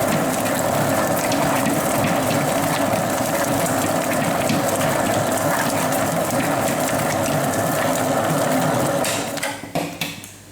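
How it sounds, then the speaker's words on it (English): Butter, sugar and cocoa powder being beaten together for gluten-free chocolate Afghan biscuits, giving a loud, steady mechanical whirring and rattling that runs continuously for about nine seconds before it cuts out. "You want to mix the butter, sugar, and cocoa powder till it's completely mixed through."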